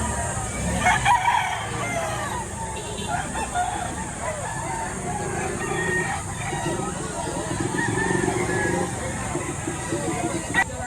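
A rooster crows amid other chickens clucking in the background, with people talking nearby over a steady hiss, at a poultry farm in Batangas, Philippines.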